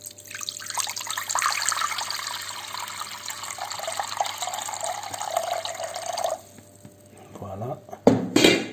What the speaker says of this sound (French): J'ajoute de l'eau.